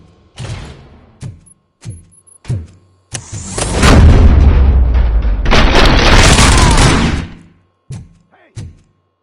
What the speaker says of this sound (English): Am I hearing gunshots?